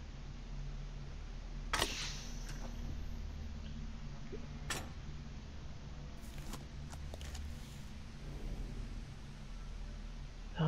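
In the puzzle video game The Room 3, a missing rivet is popped into place, producing a few sharp mechanical clicks and taps over a steady hiss of background noise.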